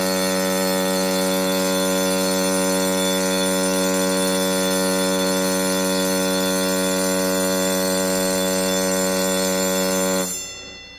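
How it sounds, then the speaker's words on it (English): A ship's general fire and emergency alarm: a loud, continuous electronic tone with rich harmonics sounds steadily for about ten seconds, then cuts off abruptly. "The general alarm for fire and emergency sounds like this."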